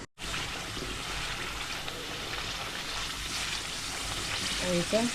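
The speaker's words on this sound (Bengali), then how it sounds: "দইটা দেওয়ার পরে এটাকে এভাবে ভালোভাবে দইটাকে ফাটিয়ে দিতে হয়" Quail roast sizzles steadily in a pan as yogurt is stirred in, giving a continuous close frying hiss with a brief clatter near the end.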